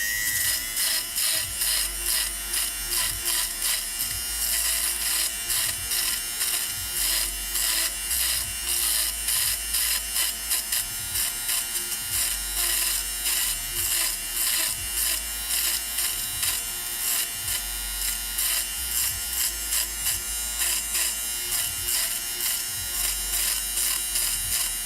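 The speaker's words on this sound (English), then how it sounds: "But I do all kinds of things with the sweater defuzzer." Electric sweater defuzzer buzzing continuously at close range during a puppet-building craft session, a steady high-pitched motor whine with a faint rhythmic pulsing as it passes over fabric, running without pause throughout.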